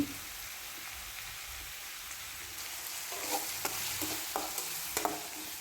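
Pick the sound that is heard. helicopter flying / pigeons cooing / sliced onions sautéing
sliced onions sautéing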